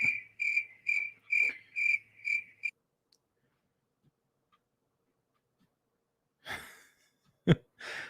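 Rhythmic cricket chirps, about six clear pulses in steady succession, loud and close, then silence followed by a couple of breathy sighs or exhalations.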